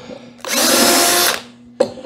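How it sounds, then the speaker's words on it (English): A power drill whines loudly for about a second while boring screw holes through lumber for a beehive part, then stops, followed by a short second burst. "Drill the screw holes."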